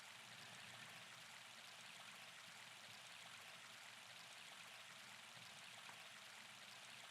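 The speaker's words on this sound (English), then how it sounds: "I just noticed that the water sound is a really short loop" Looping flowing-water ambience from the farming game Harvest Moon: A Wonderful Life, a steady broadband rush like a stream or small waterfall, continuous and even throughout with no talking.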